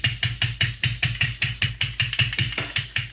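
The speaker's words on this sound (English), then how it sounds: "So what we're going to do is slowly just start tenderizing it on one side." Raw meat is pounded with a tenderizer in a quick, even rhythm of about four sharp thuds per second, close and fairly loud throughout, with no voices.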